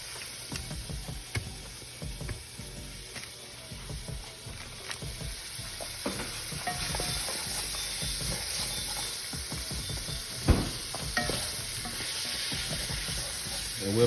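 Shrimp and vegetables cook in butter in a pan, giving a steady close sizzle and frying hiss with scattered stirring clicks and scrapes throughout, and no voices.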